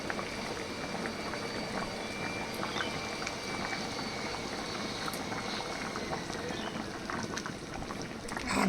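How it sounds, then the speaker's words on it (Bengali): Hot water goes into a pot of thin chicken and potato curry, and a steady, even bubbling and rushing liquid hiss carries on throughout, close and moderately loud, with no speech. "এই গরম জলটা এবার দেবো।"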